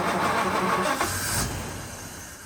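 The engine of a 1939 Rover Tickford 20 drophead, not run in 60 years, turns over on its starter motor with a steady, close mechanical whir and churn that fades slightly at the end.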